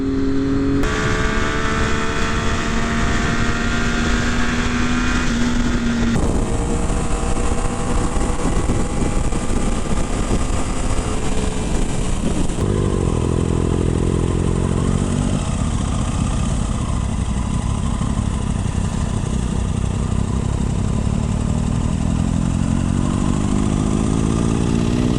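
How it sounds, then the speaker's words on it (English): A 600cc sport motorcycle with an Akrapovic exhaust runs loud and close, holding a steady, raspy engine note with a few shifts in pitch and no talk over it. "Is that a Akrapovic exhaust?"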